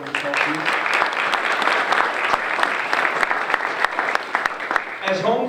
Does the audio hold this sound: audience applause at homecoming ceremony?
yes